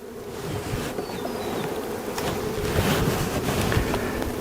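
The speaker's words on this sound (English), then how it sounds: "there's tons of young adult bees" Honey bees fill an open nucleus hive with a steady, dense buzz, close and continuous, with no talking.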